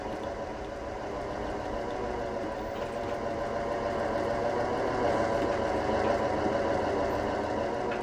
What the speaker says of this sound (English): Listen to that chugging away